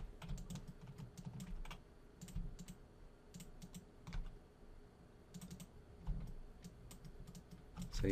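Computer keyboard presses while working in Maya polygon tools, a scattering of quiet close clicks in small irregular clusters over a low background hum, no speech.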